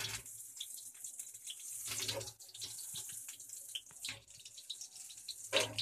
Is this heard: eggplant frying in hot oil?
yes